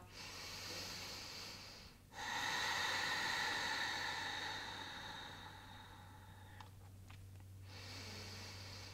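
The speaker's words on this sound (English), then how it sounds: "Deep breath." Deep breathing during a vinyasa yoga flow: a long, airy inhale or exhale close to the microphone, then a short pause and a few quick breaths, followed by another long breath.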